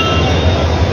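A train at a busy railway station makes a loud, close, continuous rumble and rattle of rolling wagons for a brief moment.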